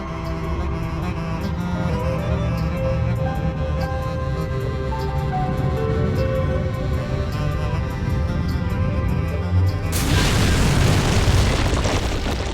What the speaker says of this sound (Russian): метеорит разорвался на множество частей